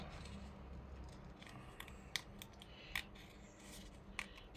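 Scissors snip through sticker labels in a few quick, crisp cuts spaced a second or so apart, close and fairly quiet over a low background hum.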